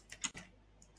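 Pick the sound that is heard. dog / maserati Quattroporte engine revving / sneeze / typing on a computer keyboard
typing on a computer keyboard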